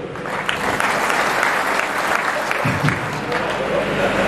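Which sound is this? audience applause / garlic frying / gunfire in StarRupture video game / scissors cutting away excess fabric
audience applause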